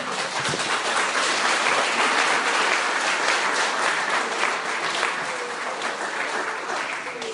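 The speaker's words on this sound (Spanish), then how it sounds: "Denle un aplauso al Rey" A church congregation applauds during a Spanish-language sermon: sustained, dense clapping from many people that stays loud and steady throughout, with no voices standing out above it.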